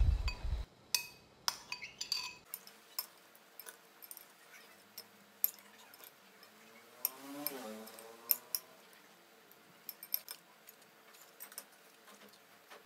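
Soft clinks and scrapes of a utensil stirring sliced Thai eggplant into pork and dressing in a bowl, quiet and close, with irregular taps throughout.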